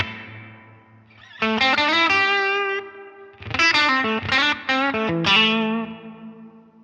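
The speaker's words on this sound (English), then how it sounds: "if they want a bigger reverb, they'll just come in here and they'll raise the decay up" An electric guitar runs through a Line 6 Helix reverb with the decay turned up, playing sustained distorted notes and chords whose long, washy tails ring out between phrases.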